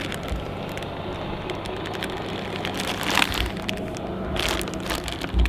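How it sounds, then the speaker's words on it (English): A plastic Ziploc bag holding salmon eggs wrapped in paper towel is handled and zipped shut, with close, crinkly rasping and rustling and louder bursts of plastic noise partway through and at the end. "And I zip that bag up."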